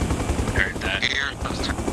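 Helicopter in ARMA Reforger, a loud continuous rotor chop with a pulsing low thump that runs the whole time, joined by scattered higher tones and voices talking over it.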